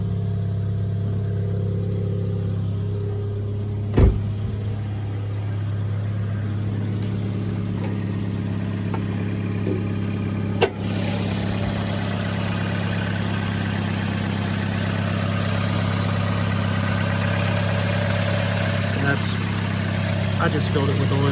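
A 2007 Toyota Yaris engine idles in a steady low hum with an even drone that barely changes, interrupted by two sharp clicks, and a voice talks quietly over it.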